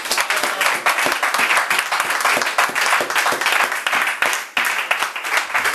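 Church congregation applauding together, a sustained dense wash of clapping with rapid irregular claps filling the space at steady loudness, with no voices standing out.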